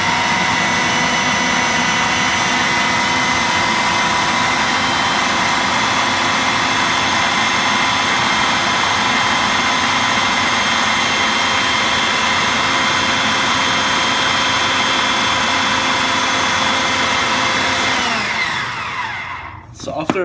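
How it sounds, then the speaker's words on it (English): Blender running on high speed to blend hummus, a loud steady whirring roar that holds constant for most of the clip, then winds down abruptly near the end. "we're gonna wanna blend this on a very high speed"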